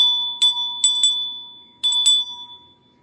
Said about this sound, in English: which is like the dinner bell right now